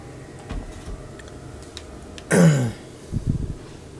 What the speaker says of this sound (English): I need to stop coughing, that's so annoying